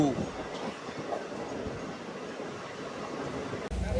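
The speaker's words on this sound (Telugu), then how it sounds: "మన ట్రైన్ ట్రాక్స్ మీద దుమ్ము రేపుకుంటూ వెళ్ళిపోతున్నారండి" A MEMU express train, number 17259, runs at speed between stations on the Nellore to Vijayawada line, giving a steady, loud rumble and rattle of wheels on rails throughout, with a brief dip near the end.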